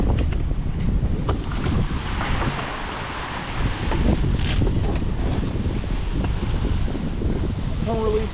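Wind gusts and rushes across a sailboat at sea as squalls build. The roar is loud, broadband and steady, with water wash underneath and faint voices in the background.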